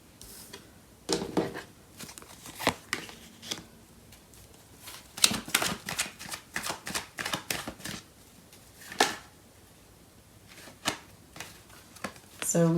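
Tarot cards are shuffled in several crisp riffling and slapping bursts, close and fairly quiet, with softer gaps between them.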